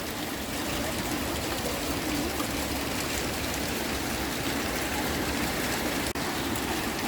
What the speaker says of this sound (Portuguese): Conseguem ver as pedrinhas de gelo batendo no telhado?